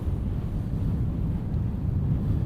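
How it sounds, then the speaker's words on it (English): Wind picking up at a wild camp high on Cold Pike in the Lake District, above Red Tarn, heard as a steady low rushing buffet against the microphone with no voices. "There's the wind getting up now."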